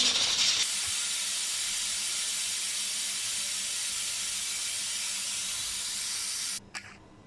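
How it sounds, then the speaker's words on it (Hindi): Steam hisses hard and continuously out of a pressure cooker holding spicy mutton pulao as the pressure is let out, a loud, close, unbroken spray that cuts off sharply near the end, followed by a brief clatter. "तमाम स्टीम निकल गई, अब इसे खोल लेते हैं।"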